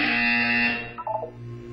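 A loud, harsh electronic buzzer blares in the Portal 2 game for under a second, then cuts off into a short fading tail and quieter tones.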